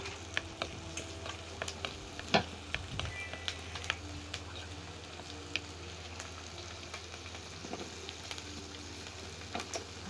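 Pork sizzles on a Thai mookata grill at the table, a steady close crackle with scattered sharp pops and light clinks over a low background hum.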